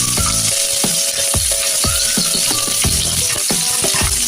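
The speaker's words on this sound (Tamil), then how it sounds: "வெங்காயம் சேர்த்து நல்லா வதக்கிக்கலாம்" Sliced onions frying in hot oil with cinnamon and cloves for a chicken biryani masala, a loud, continuous sizzle broken by repeated sharp clinks and scrapes of a metal spoon stirring the pan.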